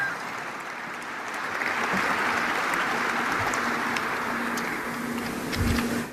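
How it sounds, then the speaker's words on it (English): Applause from an audience at an Airbus Canada event in Mirabel, Québec, a steady broadband wash of many hands clapping that holds for several seconds with a low hum beneath, swelling slightly toward the end. "you can clap."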